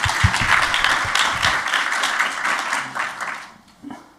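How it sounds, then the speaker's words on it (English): An audience breaks into applause, dense clapping that stays strong for a few seconds and then thins out and fades. "Join me in a round of"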